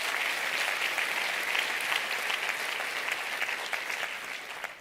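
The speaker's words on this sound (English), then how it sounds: "Let us give a round of applause to our academics, our mentors who have supported our students." Graduation ceremony audience at the University of South Africa applauding academics and mentors, a loud, continuous roar of many hands clapping that holds steady before easing slightly at the close.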